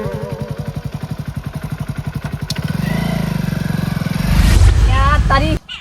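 A motorbike engine runs with a rhythmic, pulsing idle thump that rises into a louder rev and then cuts off, while people talk over it.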